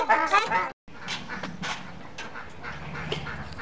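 Muscovy ducks quacking and calling in repeated bursts, fairly close, with a person speaking at the start and faint background noise throughout.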